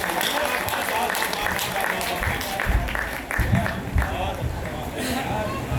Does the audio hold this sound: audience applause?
yes